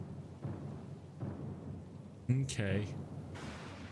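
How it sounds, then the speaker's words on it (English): Thunderstorm in the video game Pillars of Eternity II: Deadfire: a steady low rumble with swelling surges throughout, loud and close, with a voice briefly speaking over it near the middle. "Yeah, the storm's pretty. The storm's pretty loud."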